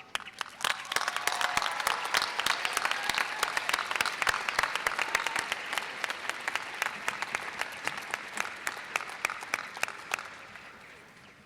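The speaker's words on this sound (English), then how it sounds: "please extend a round of applause in recognition of our School of Education's" A large convocation audience applauds the School of Education faculty at a Syracuse University ceremony, sustained clapping from many hands that swells early, then thins into scattered individual claps before fading out.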